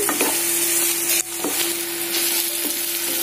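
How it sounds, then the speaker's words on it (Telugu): Onions sizzle and fry with salt in a pan for an egg curry, a steady close-up hiss broken by a few stirring scrapes. "చూడండి మన ఆనియన్స్ ఫ్రై అవుతున్నాను"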